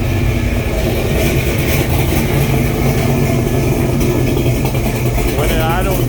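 A 1966 Chevy K10 truck engine idling, a loud, steady, low rumble throughout, with a voice speaking faintly underneath it.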